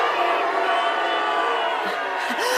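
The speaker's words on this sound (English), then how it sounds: "Charlie needs to come out to be booed or cheered." A large studio crowd at a Big Brother UK eviction roars steadily with cheers, whoops and boos for the evicted housemate, dense and loud throughout.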